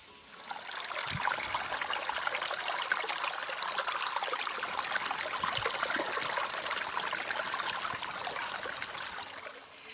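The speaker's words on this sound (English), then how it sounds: "this is Set Rock Creek. Excellent flow." Rock Creek flows steadily along a mountain trail, an even close rushing and trickling of clear water that swells in after a moment and holds throughout, with no talk.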